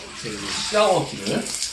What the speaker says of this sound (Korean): 샤워물을 너무 뜨겁지 않게 미지지근하게 너무 뜨거운 것도 안 되고 너무 차가워도 안 되고